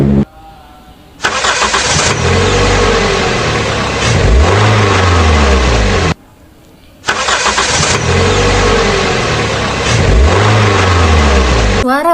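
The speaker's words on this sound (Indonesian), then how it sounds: "Contohnya seperti suara bunyi mobil." A car engine cranks and starts, then runs loudly with rising revs, cuts off briefly and starts again, repeating the same start-and-rev pattern; no talking over it.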